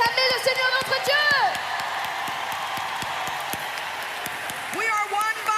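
A church congregation applauding, cheering and whooping in praise of God, loud crowd noise filling the room throughout while a preacher speaks over it.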